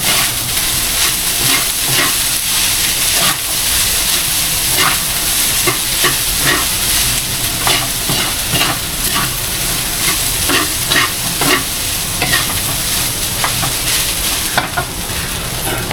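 Food frying and sizzling steadily in a pan, with salt just added, while a utensil stirs it in repeated scraping strokes; close and continuous with no talking.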